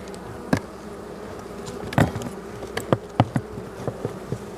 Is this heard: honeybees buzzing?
yes